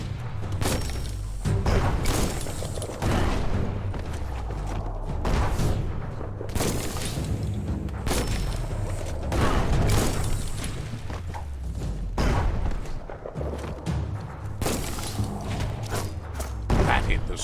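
Bomb lobber explosions from the Biomutant game land as repeated heavy booms and thuds, with combat noise between blasts and a voice talking over parts of it.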